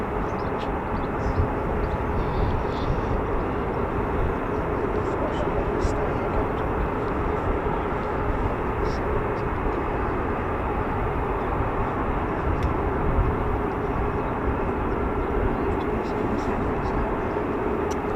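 F-15 fighter jets at RAF Lakenheath during a mass take-off, a dense continuous roar of engines and nozzles from across the airfield, heavy and unbroken, with faint crackle riding on top.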